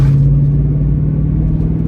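A retro sports car's engine rumbles loudly and steadily up close as it pulls away, giving a deep, even drone that holds for two seconds.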